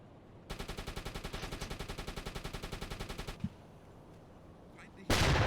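Rapid burst of submarine deck-gun fire in a U-Boat naval combat game, a steady rhythmic run of loud shots lasting about three seconds, then a brief lull before a sudden loud wash of noise.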